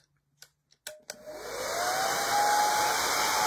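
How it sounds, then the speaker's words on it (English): A hairdryer starts up after a few brief clicks and knocks, then blows loud and steady at close range to dry paint on a book's fore-edge, with a rising whine as it gets up to speed. "Quick burst of the hairdryer."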